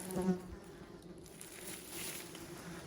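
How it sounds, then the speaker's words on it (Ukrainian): Mosquitoes buzz in a steady, close, continuous drone in a Ukrainian forest by a hillside with old dugouts, with faint rustling underneath and no talking. "Правда, комарів тут дуже багато."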